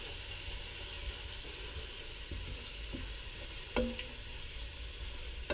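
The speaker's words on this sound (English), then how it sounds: "sizzling now." Asam pedas ikan, a spicy, tangy fish stew, sizzles steadily in a pot with a continuous close hiss and a couple of faint clinks.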